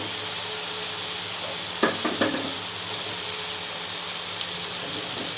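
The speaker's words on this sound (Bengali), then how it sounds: "আলুগুলো দিয়ে বেশ করে মশলাটার সাথে মিলিয়ে নেব।" Potatoes are stirred into spice masala frying in a pan, over a steady close sizzle. A few sharp spoon knocks and scrapes land in a cluster near the middle, with one lighter tap later.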